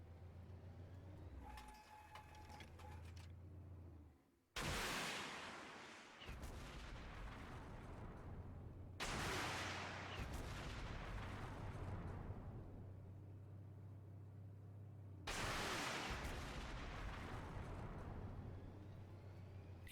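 Anti-tank guided missiles launched from a Merkava 2D tank in Armored Warfare, heard as three loud, sudden blasts spaced several seconds apart, each trailing off into a long rumbling roar over a steady low engine hum.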